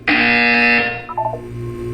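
A loud, steady electronic buzzer from the Portal 2 video game sounds close for most of a second, then gives way to a short falling run of tones over a low hum.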